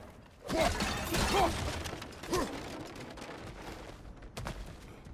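Objects being smashed and broken apart in the video game God of War Ragnarok, a few heavy crunching impacts under a busy game soundscape, with some vocal sounds between hits.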